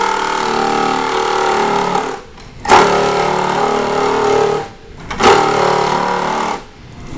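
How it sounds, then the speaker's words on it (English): A jigsaw cuts around a plastic bucket, a loud, continuous buzzing drone that dips twice briefly as the blade pauses, with no voices over it. "As you cut around, make sure that the edge of the jigsaw is just rubbing on that edge."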